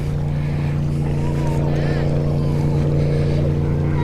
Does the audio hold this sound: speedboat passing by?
yes